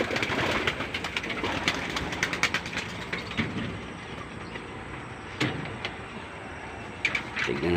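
Pigeons are released outdoors. Soft cooing mixes with scattered flutters and wingbeats against a low, steady background rumble. No voices are heard.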